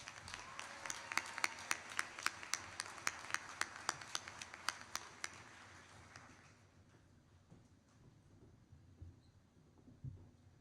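Scattered hand claps from a small crowd at a SkillsUSA opening ceremony, a burst of sharp individual claps that thins out and fades after several seconds into quiet room noise.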